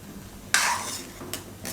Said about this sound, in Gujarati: ચમચો ફેરવી લેવાનો એકવાર